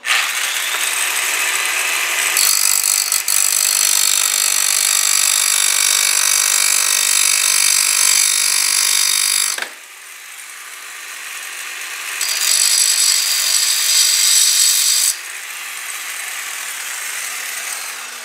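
A power tool cuts a threaded link rod with a nut threaded onto it, giving a loud, continuous close-up grinding whine that drops briefly mid-cut, then rises again.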